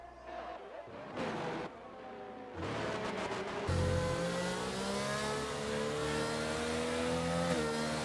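Race car engines in an online league racing video game at a Canada round, with revving, shifting cars passing close and loud, engine notes rising and layered over each other while a commentator talks.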